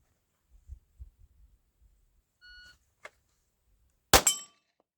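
115 grain remanufactured pistol rounds strike a steel target at 25 yards: one sharp metallic clang rings out near the end, preceded by faint soft thumps and a brief tone, with no talking.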